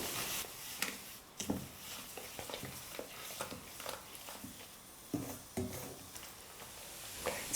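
Sugar stirred into semiya payasam in a pan, a soft scraping and swishing with repeated strokes, faint and steady with light sizzling underneath.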